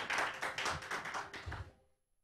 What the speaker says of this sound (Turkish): alkışlarla davet ediyorum